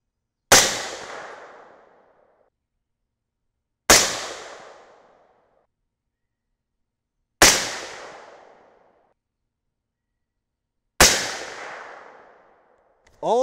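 Four loud 6.5 Creedmoor AR-10 rifle shots with a 20-inch barrel, evenly spaced about three and a half seconds apart, each a sharp crack with a decaying echo, then a brief mechanical clatter at the end.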